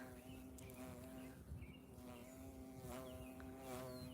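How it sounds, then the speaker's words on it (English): Bees buzz steadily around a flowering tree near a marina, a dense continuous drone with individual insects passing close, with faint bird chirps in the background. "Oh, look at all the bees. They're really enjoying this."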